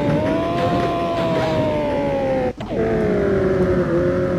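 Motorcycle engine in a GTA-style driving video game, holding a steady droning rev during a wheelie, with a brief cut-out dip before the engine tone resumes, loud and continuous.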